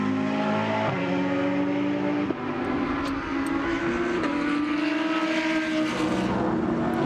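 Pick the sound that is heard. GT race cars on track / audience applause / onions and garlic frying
GT race cars on track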